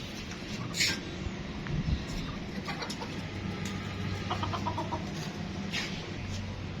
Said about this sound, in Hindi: हमारे पास ना पहले बहुत सारी मुर्गियां होती थी, मगर अब सिर्फ 2 मुर्गियां ही हैं।